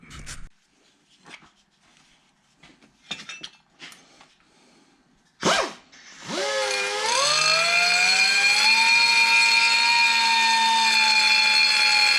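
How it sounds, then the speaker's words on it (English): A die grinder trims a cast dash for a 1951 Henry J: a few light clinks and knocks, then the tool spins up into a loud, sustained high-pitched whine that stays steady to the end. "trimmed up a little bit with the die grinder there"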